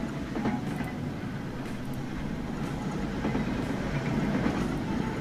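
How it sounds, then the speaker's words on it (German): A tram rumbles past in the city-building game Train Fever, a steady, loud low rolling drone with faint rhythmic wheel clatter throughout, no talking. "Da fahren wir die schönen Trams, viele Trams."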